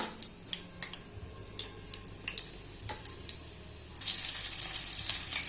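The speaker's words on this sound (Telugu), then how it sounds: "ముందుగా స్టవ్ పైన ప్యాన్ పెట్టి ఆయిల్ హీట్ అయ్యాక ఆవాలు, జీరా," Mustard seeds and cumin hit hot oil in a pan for a potato curry, giving a faint steady sizzle with scattered sharp pops and ticks of spluttering seeds, then a brighter hiss near the end, no talking.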